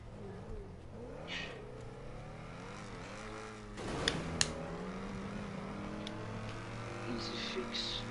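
A car in GTA 5 Online drives and revs with rising and falling engine tones and a thump of impact midway, while players chat in Swiss German over the game sound.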